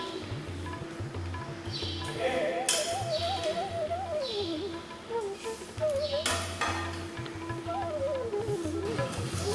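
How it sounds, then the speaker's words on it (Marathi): Small sun-dried shrimp roasting in oil in a wok, a soft sizzle under repeated stirring and scraping clinks of a utensil against the pan, fairly quiet and close. "आणि नंतर आता ह्याला थोडंसं आपल्याला कढईमध्ये थोडं तेल घेतलेलं आहे आणि थोडं आता भाजून घ्यायचं ह्याला"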